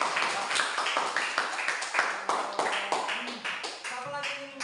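A classroom of students claps hands together, a sharp, fairly close burst of uneven claps that thins out toward the end as a voice begins speaking.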